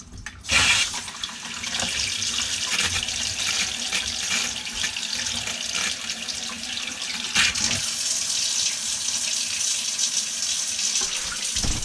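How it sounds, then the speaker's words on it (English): Water runs steadily from an RV sink faucet into a newly fitted drop-in sink, a continuous broadband splashing rush that starts abruptly near the beginning and holds at a fairly loud, even level throughout with no talking. "let's go turn the water on and see what happens"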